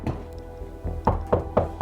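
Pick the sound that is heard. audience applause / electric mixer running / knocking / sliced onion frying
knocking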